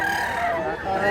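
A rooster crows once in a brief, loud, close call, with people talking in the background.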